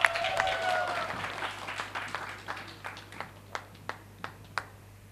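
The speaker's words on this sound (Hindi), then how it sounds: "जोरदार ताली दौन" An audience applauds the winner of a Sambalpuri reality show contest: a dense crowd clapping at first that thins into a few scattered, distinct claps, with faint voices underneath.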